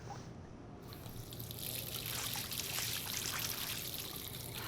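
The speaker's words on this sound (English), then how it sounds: "let's go and use the sink now" Water running from a sink tap in the Life is Strange video game, a steady, fairly loud continuous splashing stream that starts softly and fills out, with no talk over it.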